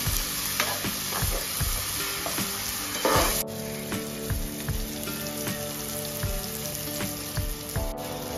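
Onion, tomato and ginger garlic paste sizzle and fry steadily in a pan for a home-cooked mutton meal, with a dense crackling hiss and repeated sharp scraping stirs knocking against the pan, close up and continuous.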